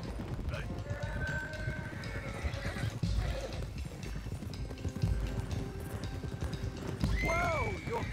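Horses neigh and whinny in Red Dead Redemption 2, with clip-clopping hooves and wagon noise running throughout; a sharp rising whinny stands out near the end over the steady game soundscape.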